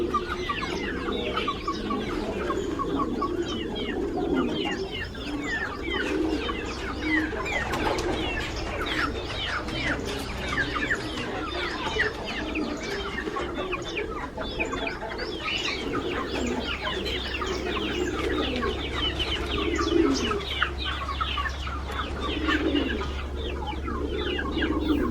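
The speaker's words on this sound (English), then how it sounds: "ये Aseel chicken, bantam chicken," A flock of Aseel and bantam chickens and turkeys on a four-acre homestead in Pakistan clucks and chatters continuously, with overlapping calls near and far over a low steady hum, and no talking.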